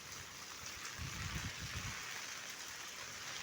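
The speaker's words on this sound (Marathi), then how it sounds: "या मुसळधार पावसामुळे पत्र्याच्या पन्हाळीवरून वाहणारं ओसंडून वाहणारं हे पाणी" Steady rushing water from heavy rain overflowing a tin roof gutter, with a broad hiss and a low splashing swell in the middle; no voices.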